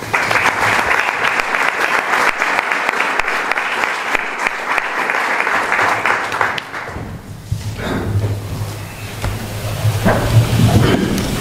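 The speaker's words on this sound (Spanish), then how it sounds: "así que con esto yo les pido a ustedes un aplauso para el autor" A hall audience at a book presentation in Utrera gives the author a long, dense burst of applause that drops off sharply partway through, followed by a low hum and a voice beginning to speak.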